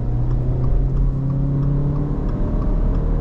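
A 2021 Subaru Outback with a 2.5-litre boxer engine and Lineartronic CVT accelerates in S sport mode, a steady loud engine drone and whir heard from inside the car without change in pitch.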